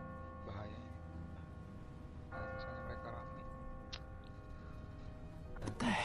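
Several distant bell strikes from a church tower in The Walking Dead game, spaced irregularly over droning background music and rumble, with a louder clang near the end.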